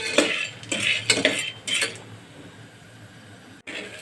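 Nylon sabudana is stirred in oil in a pan over low heat, with a spoon scraping and clinking against the metal in a few quick bursts before a quieter stretch.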